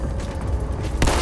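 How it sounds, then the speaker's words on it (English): Explosions in Halo: The Master Chief Collection's Infection mode rumble loudly and continuously, with a sharper blast bursting in near the end. "all I can hear is fucking explosions"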